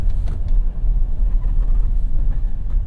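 A 2017 Ford F-150 Raptor pickup launching from 0 to 60 in 4 auto, half on gravel: loud, close, steady low engine rumble and road roar with no talk.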